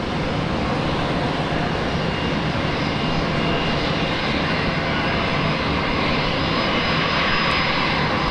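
An airliner arriving at Brisbane Airport from Sydney, its jet engines producing a loud, steady roar that fills the scene without a break.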